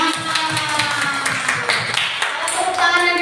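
Hands clap held low in a youth church service, a run of quick, sharp, close claps in an uneven rhythm, with voices mixed in behind them.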